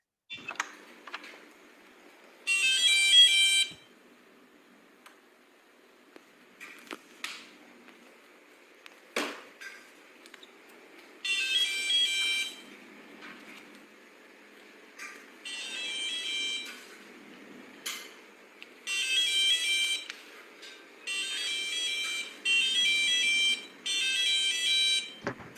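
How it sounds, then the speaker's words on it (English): A homemade door alarm sounds in repeated bursts of shrill electronic beeping, each lasting about a second, separated by quieter gaps with faint clicks and handling noise between them. "I made this door alarm project to help the store to control"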